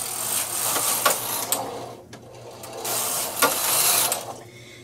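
A Singer knitting machine carriage slides across a row of needles with a steady mechanical clatter and clicking, rising and falling in two passes, moderately close and with no talk.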